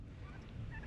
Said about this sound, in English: So you can hear the turkeys going to town.